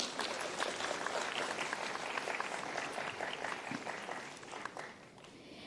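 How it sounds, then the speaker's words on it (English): Sustained audience clapping for a keynote speaker at a technology conference, moderately quiet and steady throughout, thinning a little near the end, with no voices heard. "So can we have a huge round of applause for Kovid?"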